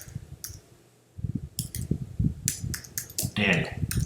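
Several sharp computer mouse clicks while working in Adobe Lightroom Classic, scattered among a person talking at close range.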